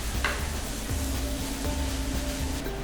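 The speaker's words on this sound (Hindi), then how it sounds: "मूली के पत्ते डाल देते हैं और इसको मिक्स कर देते हैं।" Potato and radish sabzi being stirred in a pan after radish leaves go in, a steady scraping and rustling mix over a soft continuous sizzle, close and alone with no voices.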